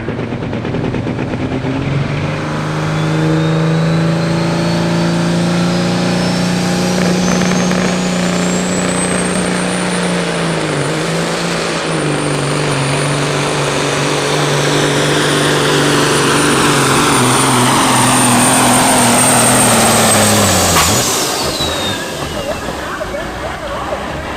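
A 1996 Peterbilt pro stock semi truck roars through a truck pull in Ashland, Ohio, its loud engine droning steadily and rising in pitch for about twenty seconds before cutting off abruptly near the end.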